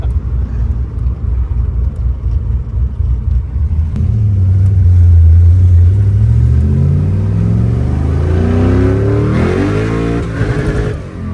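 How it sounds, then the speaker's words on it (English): A 1967 Corvette with an LS3 engine idles with a rumble, then revs hard and accelerates, the loud climbing engine note shuddering from wheel hop before fading off. "Did not fix the wheel hop."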